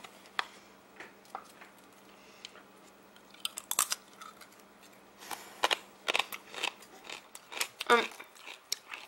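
Sweet potato chips being bitten and chewed up close, as irregular sharp crunches that grow denser and louder toward the end over a faint steady hum.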